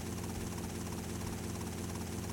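Helicopter in the video game GTA Vice City Stories, struggling in flight: a steady, dense rotor and engine drone that runs unbroken and fairly loud throughout, with no talk.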